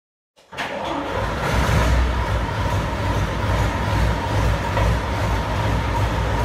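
Loud, steady engine and track roar inside a restored WWII Nashorn tank destroyer on a test drive at Overloon, starting abruptly after a brief silence and droning continuously with rumbling low clatter.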